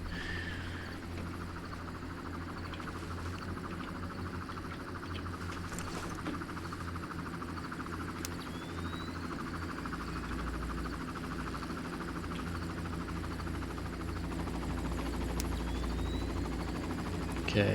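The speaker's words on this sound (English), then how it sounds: "Can you hear the helicopter?" A helicopter approaches in the first Far Cry shooter game as a steady, continuous rotor drone with a low rumble beneath, holding at an even level for the whole stretch with no talking.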